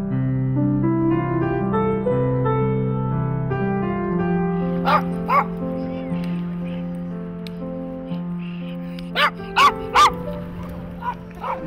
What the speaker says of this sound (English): These are my two dogs.